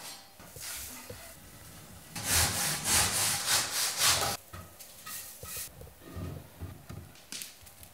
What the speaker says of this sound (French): Découpe ensuite les blocs de béton cellulaire avec une scie pour béton cellulaire.